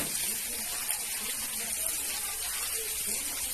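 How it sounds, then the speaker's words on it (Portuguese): Water pouring into a cooking pot for hot sauce with bay leaves and ginger, a steady broadband splashing rush that stays constant and fairly close for the whole stretch. "Vou colocar 300 ml de água."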